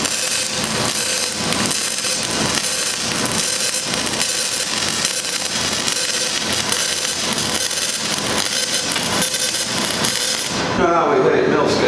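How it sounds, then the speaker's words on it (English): Stick welding with a cell inverter machine set to high arc force, giving a loud, steady crackling hiss with a rhythmic pulsing throughout, continuous and close, shifting in tone near the end. "That inverter squeal you hear here, that is with high amounts of arc force."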